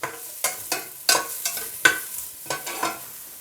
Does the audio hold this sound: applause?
no